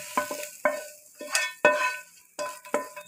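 Masala being stirred into vada pav batter, a series of short scraping and sloshing strokes, close and fairly clear, with brief pauses between them and no voices.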